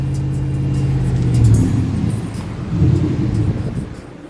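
A 1997 Chevrolet Silverado engine with a Dynamax bullet muffler puts out a deep, loud exhaust rumble that swells twice as the engine revs and then settles, close by and without talk.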